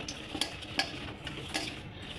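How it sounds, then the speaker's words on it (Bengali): Coated okra frying in oil makes a soft, steady sizzle at close range, with a few light stirring scrapes and taps scattered through the quiet, low-level cooking sound. "এগুলো তেলের উপরে দিয়ে একটু ভেজে নেব"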